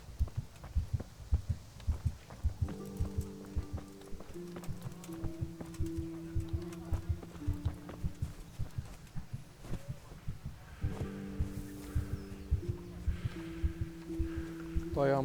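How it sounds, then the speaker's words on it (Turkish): A steady, throbbing heartbeat thumps through Kingdom Come: Deliverance gameplay, repeating in a regular low pulse beneath a droning musical hum that swells and fades. "şu kalp sesi gelmezse çok güzel olur da"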